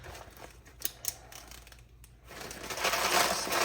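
Cereal cookies being crushed by hand inside a plastic bag, with crinkling, crunching taps and a rising rustle of plastic toward the end, close and fairly loud.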